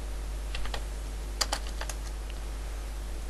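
Quick bursts of keystrokes on a computer keyboard as a command is entered in an administrator command prompt, a few close clicks and a small cluster near the middle over quiet room hiss.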